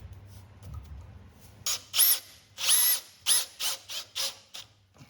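A power drill drives a screw into a countersunk hole in wood for a vise chip drawer, firing several short whirring bursts in an uneven rhythm, close and fairly loud, with no voices.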